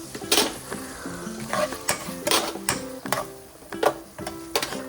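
Chopped vegetables for Kurkure spring rolls being tossed with salt in a pan, metal spoon clinking and scraping against the pan in uneven repeated strokes, close and clear with a faint sizzle.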